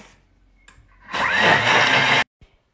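A Thermomix bowl, closed with lid and measuring cup, runs at speed 10, pulverising vanilla pod pieces with sugar: a loud, dense blender whir surges in and holds for about a second, then cuts off abruptly, with faint handling knocks around it.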